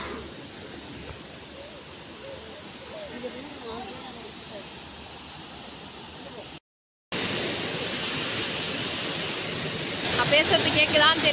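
A waterfall at a mini Courtallam-style falls in Nagercoil, Kanyakumari, pours with heavy force as a steady broadband rush. A brief dropout interrupts it midway, and the roar grows louder and fuller toward the end. Speech is faintly mixed in.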